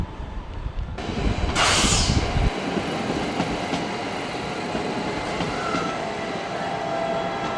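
A German train arriving at München Hbf station sets up a sudden broad roar that settles into a steady, sustained rolling rumble with faint squeals over several seconds.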